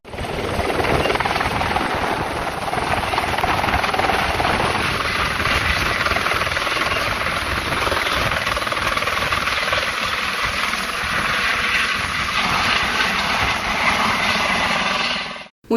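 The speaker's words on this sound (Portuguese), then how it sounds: "nós vamos ver um vídeo da Tenente Baldan no helicóptero pilotando o helicóptero do BPMOA" A military police helicopter roars steadily and loudly in flight throughout, its rotor thrum and engine whine continuous from start to finish with no voices.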